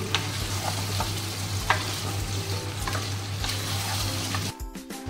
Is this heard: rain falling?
no